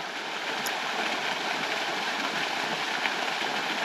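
A waterfall pours into a pool at the Termes cascade, producing a steady broadband rushing roar that stays even and continuous at close range, with no voices.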